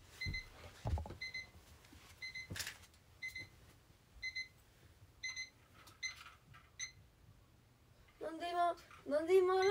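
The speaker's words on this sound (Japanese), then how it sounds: "なんで今アラーム鳴った？" An alarm beeps in quick repeated bursts of short, bright tones, fairly faint and set against a quiet room. A few knocks sound along the way, and someone speaks near the end.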